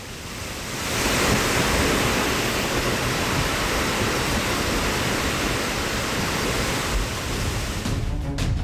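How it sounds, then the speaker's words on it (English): Strong flood water currents rush after a cloudburst at Shastadhara in Dehradun, a loud, continuous roar of torrential water that swells after the first second and holds steady throughout. "Strong water currents from a cloudburst in Shastadhara in Dehradun."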